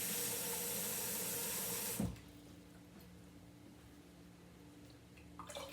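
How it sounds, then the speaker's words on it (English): Water pours steadily from a cup into a cooking pot in a loud, even rush for about two seconds, then stops abruptly with a splash, leaving quiet room tone and a faint clatter near the end. "So now I'm going to put the 4 cups of water in."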